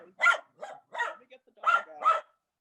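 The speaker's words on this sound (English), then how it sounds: "We got a puppy with us." A puppy lets out five short, sharp yaps in an uneven rhythm, close and fairly loud in an otherwise quiet indoor space.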